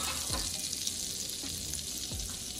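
Unsalted butter sizzling in a pan with onion and garlic, a steady close frying hiss with a few soft low thumps from the pan or utensil spaced through it, fairly quiet and without talk.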